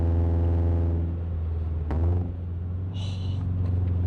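A modified Subaru BRZ / Toyota 86 sports car engine drones steadily while driving on a road, with a loud low rumble and a slight rise in revs partway through.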